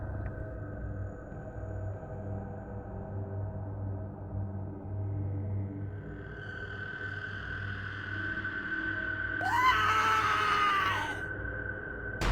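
A woman's long, wavering scream in a horror story rises and bends near the end, loud and close over a low rumbling ambient bed, with no talking.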